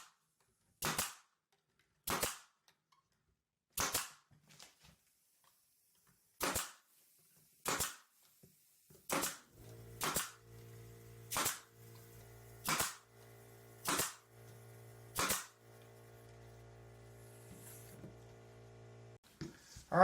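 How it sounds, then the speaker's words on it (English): A handheld staple gun drives 18 gauge staples into wooden frames, giving about a dozen sharp, evenly spaced snaps roughly every 1.5 seconds. Close and loud, with a low steady hum joining in for the second half. "My stapler uses 18 gauge staples."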